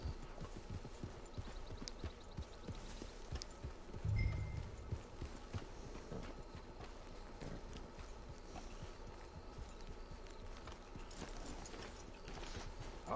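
Horse hooves clip-clop steadily and faintly, a slow walking rhythm that continues throughout, with one brief louder thump partway through.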